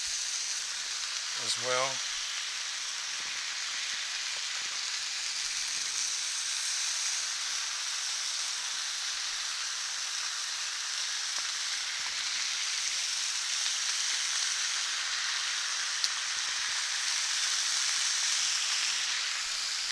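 Bacon frying in a pan for a burger, a steady dense sizzle and hiss that runs evenly and close throughout, with a brief voice at the start.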